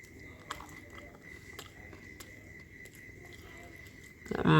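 Someone bites and chews gluten-free sourdough bread close to the mic in soft, moist, irregular mouth sounds over a low room hum, ending in a louder rustle.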